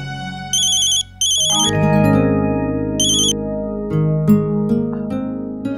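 A phone ringtone plays close and loud, repeating bright electronic chirps over a sustained musical tone.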